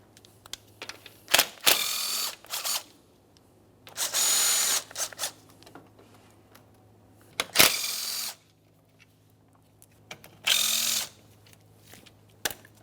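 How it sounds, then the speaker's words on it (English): A ratchet backing out 10mm bolts that hold the A/C condenser to the radiator on a 2014-2018 Mazda 3 gives several separate short bursts of rapid clicking, close by, with quiet gaps between them. "Now let's start removing all 4 pieces of 10mm hardware."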